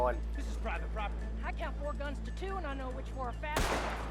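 In Red Dead Redemption 2 Online, people talk steadily over a low hum until a single loud, sharp gunshot cracks near the end.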